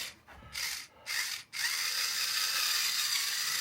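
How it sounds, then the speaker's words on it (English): A pepper grinding mill with a small flashlight on its end gives two short grinding bursts, then a longer continuous rasp, close and fairly quiet. "Oh, it's got a little flashlight on the end of the pepper shaker. Pepper grinding mill?"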